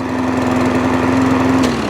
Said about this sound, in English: it is only a 90cc engine